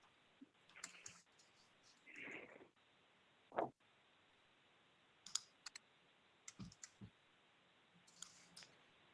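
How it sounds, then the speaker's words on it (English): Scattered bursts of clicking keys on a computer keyboard during an online committee meeting, quiet and irregular with pauses, alongside brief faint voices. "I'm typing as fast as I can."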